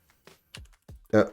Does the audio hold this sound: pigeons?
no